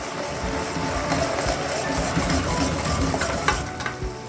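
Malido mixture of evaporated milk simmering and bubbling in a pot, a steady close sizzling, popping texture with occasional stirring scrapes throughout.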